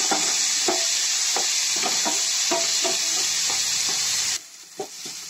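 A ripe tomato tossed onto browned onion for mutton curry sizzles in a loud, bright hiss, with regular stirring scrapes, then the sizzle drops sharply near the end.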